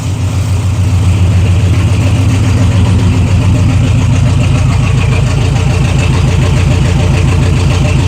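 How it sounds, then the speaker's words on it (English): Exhaust from a Ford F350 truck rumbles at idle close to the pipe, a deep, loud, rhythmic burble that holds steady throughout with a slight lift after the first second, and no voices. "see what the exhaust note says."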